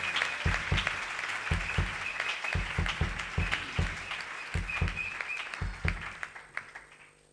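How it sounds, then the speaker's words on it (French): A church congregation applauds together in rhythmic, steady clapping that fills the hall, keeps a regular beat, and thins out toward the end. "Est-ce qu'on peut acclamer encore le Seigneur?"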